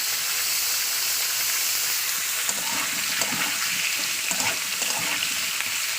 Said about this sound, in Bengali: একটু লবণ আর হলুদ দিয়ে ভেজে নিচ্ছি চিংড়িগুলো।